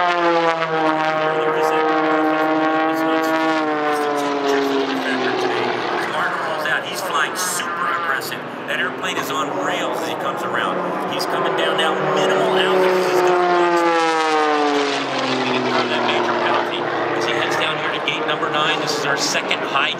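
Red Bull race aircraft in Budapest sweeping through high-G turns, a loud propeller engine roar whose pitch slides down and back up as it banks, close and continuous throughout.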